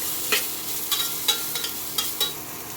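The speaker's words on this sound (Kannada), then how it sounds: "ಈ ಹಾಗಲಕಾಯಿ ಹೆಚ್ಚಿರೋದನ್ನು ಹಾಕಿ ಸ್ವಲ್ಪ ಬಾಡಿಸ್ತೀವಿ" Chopped bitter gourd sautés with mustard seeds in a pan: a soft, steady sizzle with about half a dozen crisp, evenly spaced scrapes of a spoon stirring, close by and without speech.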